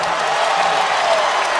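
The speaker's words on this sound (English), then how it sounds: "That got the crowd going into it." A basketball arena crowd roars and cheers after an alley-oop slam dunk, a steady loud wash of voices and applause.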